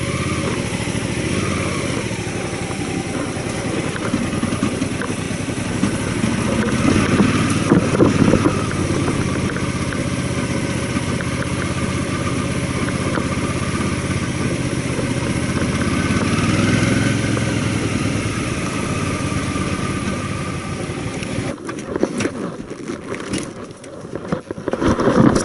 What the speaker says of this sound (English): Just going to chuck my gear on and just have a ride just a couple of minutes down the road.